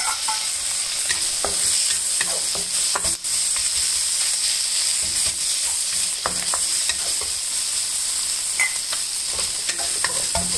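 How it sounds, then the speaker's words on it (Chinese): Mixed sauces, diced green pepper and carrot slices hit a hot wok, raising a steady loud sizzle with repeated scraping spatula strokes throughout, and no voices. "倒入三个酱，混合的三个酱，然后倒入青椒丁和小胡萝卜片"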